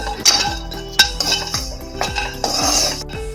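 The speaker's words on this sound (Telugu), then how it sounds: "కొబ్బరి ఇవి కూడా కొంచెం దోరగా వేయించుకోవాలి" A metal spoon scrapes and clinks against a pan as coconut pieces roast, with repeated close, rhythmic strokes and sharp clanks.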